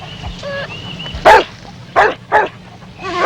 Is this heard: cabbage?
no